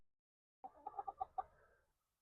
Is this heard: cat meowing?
no